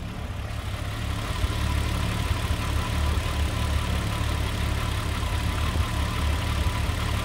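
A VW VR6 engine converted from naturally aspirated to turbo idles steadily nearby, a low, even burbling hum with a faint mechanical ticking texture, continuous and without talk.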